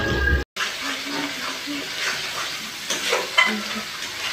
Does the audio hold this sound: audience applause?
no